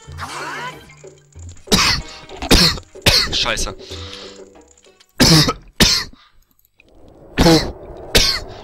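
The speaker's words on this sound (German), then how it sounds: "Scheiße, warum hab ich so einen Husten?" A man coughs repeatedly and hoarsely while commentating a German Let's Play of The Legend of Zelda: Ocarina of Time, with several harsh, close bursts separated by short pauses and some speech between them.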